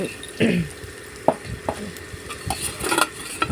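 Cubed capsicum and onion being stir-fried in a pan for a chilli chicken dish, with a soft steady sizzle broken by several sharp spatula scrapes and clinks against the pan.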